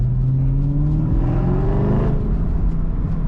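A Chevrolet Camaro ZL1 with a Corsa exhaust revs up with a rising, throaty exhaust note, loud and close, then settles into a deep rumble.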